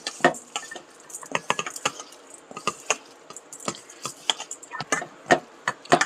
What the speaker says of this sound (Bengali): দেখো খুব ভালোভাবে আমি চিনির সঙ্গে ছানাটাকে মিক্সড করে রেখে দিলাম।